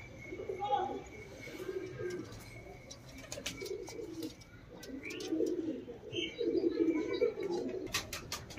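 Low, rolling coos come from Punjabi Malwai pigeons held for sale, repeating throughout at close range, with a few sharp clicks and some talking in the background.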